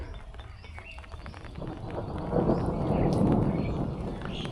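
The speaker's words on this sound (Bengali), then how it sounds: "আর মেঘের গর্জন তো আছেই।" Thunder rolls low and deep over open green crop fields during the first rain after winter, swelling into a broad, heavy rumble that builds through the second half.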